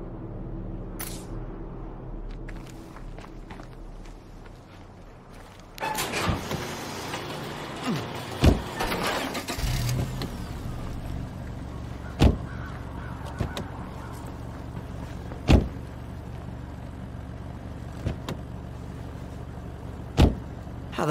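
A car in the video game State of Decay 2 starts up and drives with a low engine rumble, punctuated by sharp clunks and knocks, after a quieter opening.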